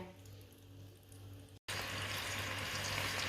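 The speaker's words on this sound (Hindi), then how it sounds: "ऑयल को अच्छी तरह गर्म करके थोड़ा सा ठंडा होने के बाद चाशनी डालना" Sugar syrup poured into hot oil for sweet rice: a quiet low hum cuts briefly to silence, then a loud, steady, close sizzle fills the rest.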